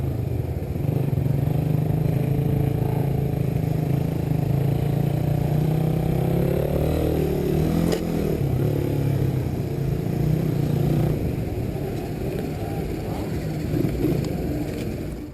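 A 2019 third-generation Suzuki Raider R150 carbureted motorcycle idles close by, a steady throbbing engine drone with a brief blip of revs midway, running continuously until it cuts off at the end.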